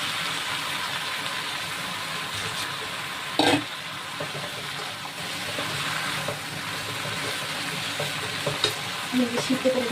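Malabar spinach drops into a pan where a fish head has been sautéing, giving a loud, constant frying sizzle close up with a sharp burst of spitting and occasional stirring clatter.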